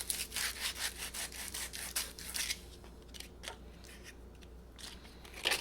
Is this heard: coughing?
no